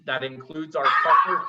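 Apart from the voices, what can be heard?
dog barking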